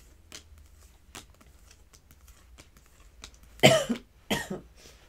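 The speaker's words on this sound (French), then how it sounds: "j'ai pas toussé de la journée. Là, ça arrivait d'un coup." Two harsh coughs close to the microphone near the end, after a few faint clicks and taps in an otherwise quiet room.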